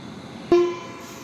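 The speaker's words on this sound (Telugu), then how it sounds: "ఇప్పుడే క్రాస్ చేసింది ట్రైన్ అది." The Shirdi Express, running badly late, gives one short horn blast as it crosses, the tone sustaining briefly before fading into a low background rumble.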